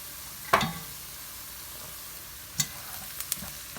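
Onions and garlic frying in a soup pot for chicken sotanghon soup, a soft steady sizzle broken by a sharp stirring scrape early on and a few lighter utensil knocks later.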